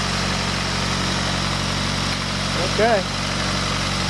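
A small Subaru engine runs after being started, a loud, steady droning idle with a constant hum throughout, while a voice speaks briefly over it near the end.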